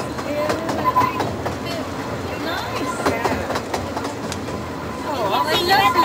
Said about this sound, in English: The train going round.